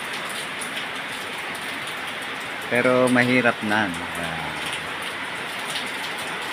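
Heavy monsoon rain from the southwest habagat pours outside a house in a steady, dense hiss that runs the whole time, with a person speaking briefly partway through.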